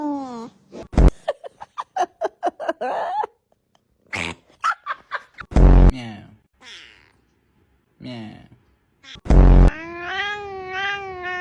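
A string of funny cat sounds: repeated short meows and yowls, a few long drawn-out cries and a wavering trill at the end, loud and close, with brief gaps between calls.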